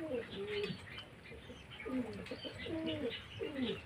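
Caged pigeons coo softly in repeated low, throaty phrases, with a few faint chirps mixed in. The calls are fairly close but quiet.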